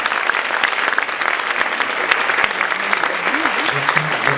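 Conference audience applauding loudly for the arriving speaker Michel Odoul, a strong continuous roar of clapping with a faint voice rising briefly near the end.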